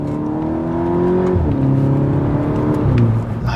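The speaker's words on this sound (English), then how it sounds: "just have those instant gear changes with a little upshift fart" VW Golf GTI pulling away under full throttle, a loud near engine note rising in pitch and dropping sharply at two quick upshifts, each with a brief crackle, no talking.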